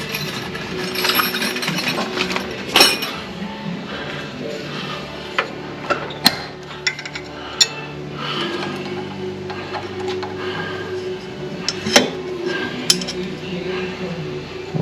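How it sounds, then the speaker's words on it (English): A pile of Allen wrenches is dumped out during a Kohler Command V-Twin oil leak repair, giving scattered metallic clinks and rattles over a steady background hum, with a voice talking over it. "I just dumped out all the Allen wrenches."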